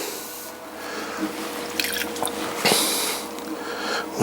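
Water sponged off a pottery wheel after throwing clay cups: soft wet squishes, drips and rubbing close by, irregular and fairly quiet, with one sharper splash of liquid.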